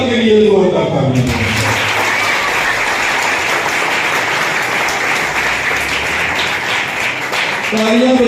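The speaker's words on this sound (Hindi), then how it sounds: "यीशु मसीह के जलाल के लिए जोरदार तालियां" A church congregation breaks into vigorous applause following a preacher's voice, the clapping dense and loud for about six seconds before the preacher resumes speaking over its tail.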